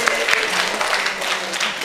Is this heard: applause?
yes